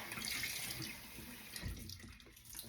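Tap water runs steadily into a sink as a clean cloth is wetted under it, a close, continuous splashing flow that eases slightly toward the end.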